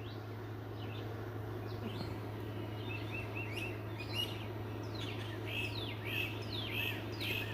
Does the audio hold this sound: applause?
no